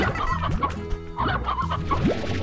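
Hens clucking in the Slime Rancher game, a steady run of overlapping clucks and short warbling calls from several birds, close and fairly loud over faint background music.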